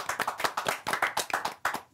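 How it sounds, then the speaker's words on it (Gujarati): Audience applause at a Gujarati film event: a crowd of hands clapping in quick, uneven bursts, fairly close and steady for the whole moment, with no voices over it. "ખૂબ બધી તાળીઓ"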